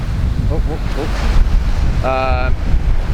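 Wind buffets a microphone and ocean surf rolls at a Pensacola, Florida beach, a loud, continuous rushing roar; a brief voice rises faintly within it.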